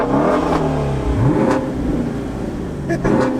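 A Camaro SS 1LE V8 is revved nearby: a loud, rising engine roar climbs quickly then settles into a rumbling idle, with a brief blip near the end.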